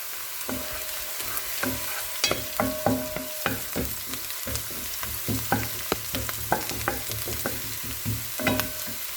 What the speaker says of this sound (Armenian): Ահա աղջիկները սոխը կարմրեց, արդեն ավելացնում ենք թելուկը։